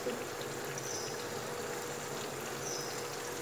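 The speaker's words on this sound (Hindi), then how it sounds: "ये देखें इसके अंदर पानी डाल" Water pours into a cooking pot with a steady, soft, continuous splashing hiss, faint and unbroken for a few seconds.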